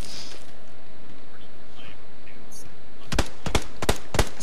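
Gunshots in PUBG, four or five sharp reports spaced irregularly in the last second, following a stretch of quiet ambient game noise.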